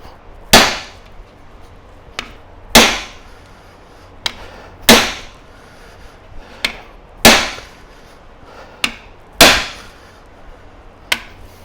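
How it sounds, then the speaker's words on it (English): A large hammer strikes an impact screwdriver set in a transmission screw, six or seven hard, ringing blows spaced a second or two apart, with lighter taps between, close and loud. "We'll get a bigger hammer."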